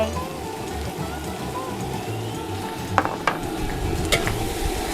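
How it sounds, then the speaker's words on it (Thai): Squid and onion are stir-fried in a very hot pan. A steady hiss and low rumble run throughout, with a few sharp clanks of a spatula against the pan. It sounds fairly close, and no one speaks. "จากนั้นผัดไปนิดเดียวหนูใส่หอมใหญ่ลงไป"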